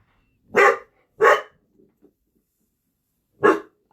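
A dog indoors barks three times, loud and close: two quick barks, a pause with a soft whimper, then one final bark.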